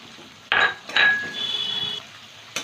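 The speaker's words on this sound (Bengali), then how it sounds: "পেঁয়াজটা একটু ভেজে নেব।" Three chopped onions dropped into hot oil after garlic in a pan: a couple of loud metallic clinks and scrapes of a utensil against the pan over a soft, steady sizzle, with one more clink at the end.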